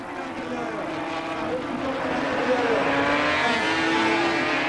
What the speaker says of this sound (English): Lawson with a big brave move there went way past the Honda